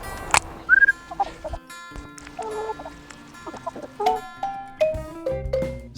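Hens clucking nearby: a loose string of short clucks and drawn-out squawks, some louder and some softer, with brief pauses between them and no talking.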